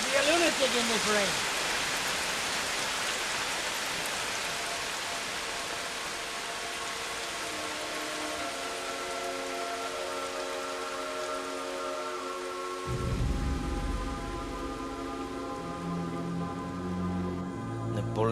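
Heavy rain falls in a steady, loud, continuous wash with no break, while sustained musical tones slowly rise and layer over it.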